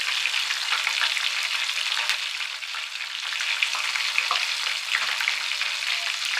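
Asafoetida frying in hot oil while making a spinach fry, a steady, dense, close sizzle that hisses evenly throughout with no talk.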